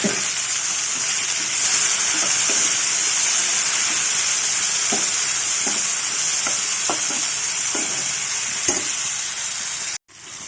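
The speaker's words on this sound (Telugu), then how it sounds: "ఇప్పుడు టమాటాలు కరివేపాకు రెండు పచ్చిమిరకాయ చీలికలు వేస్తున్నాను" Tomatoes, curry leaves and slit green chillies hit a hot pan for an amaranth leaf curry, making a loud, steady sizzle with scattered spatula taps before it cuts off abruptly near the end.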